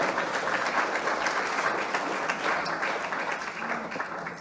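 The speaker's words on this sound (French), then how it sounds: "Vous pouvez applaudir." Sustained applause from an audience at an evening event on commitments for islands, an even, moderately loud crowd of clapping hands that fades slightly at the end.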